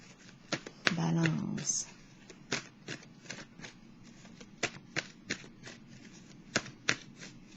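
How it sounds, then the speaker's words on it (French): Tarot cards being shuffled by hand, a series of soft riffling flicks and taps spaced irregularly, close and fairly quiet, with a brief spoken word near the start. "Là, mes cartes sont peut-être mélangées"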